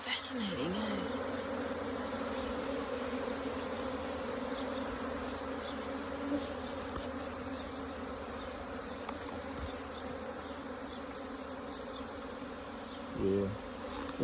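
Honeybees hover in a dense cloud at the front of a hive, their steady droning buzz filling the air continuously for the whole stretch, with a brief louder swell near the end as one passes close.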